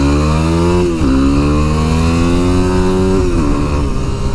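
A Yamaha WR250R motorcycle engine revs up loud and close, its pitch climbing, dropping briefly, then rising again in a sustained buzzing rev before falling off.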